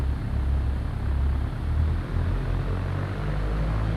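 Propeller aircraft engine at 1700 rpm takeoff throttle in the X-Plane 11 flight simulator, a loud steady low droning hum with slight pulsing, continuous and alone.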